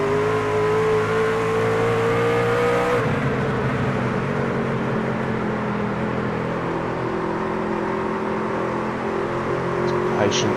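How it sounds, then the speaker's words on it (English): NASCAR truck engine at Lucas Oil Raceway as the driver works the throttle, a loud continuous drone whose pitch shifts and dips sharply early on, then holds steady, with race commentary talking over it. "Just have a listen to how he's having to manage the throttle here now."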